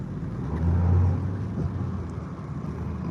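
Dodge Dart four-cylinder engine with a single-pipe exhaust accelerating, a low steady drone that swells briefly and then settles, fairly quiet and heard alone.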